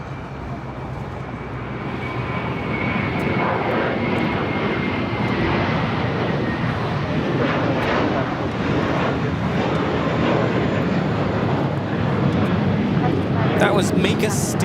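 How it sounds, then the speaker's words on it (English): A JetBlue Airways Airbus A321 jet taking off at LAX, a broad, loud engine roar that swells in the first seconds and then holds steady, with wind buffeting the microphone. "That was Make a Statement, JetBlue Airways, and A321 headed to JFK, flight 1524."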